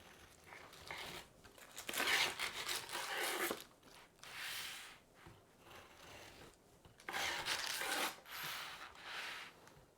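A knife saws through a chilled Oreo no-bake slice to trim its edges, giving repeated close scraping and crunching strokes in bursts with short pauses.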